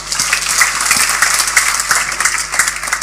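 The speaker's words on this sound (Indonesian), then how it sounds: "Beri tepuk tangan, saudara." A church congregation breaks into sustained applause, dense overlapping claps filling the room at steady loudness throughout with no voices over it.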